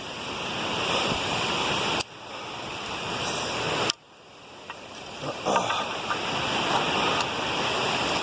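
A mountain creek running high along the Mt. Whitney Trail near Lone Pine Lake rushes steadily and loudly nearby, a broad continuous roar of water with a couple of brief breaks and a few scuffs.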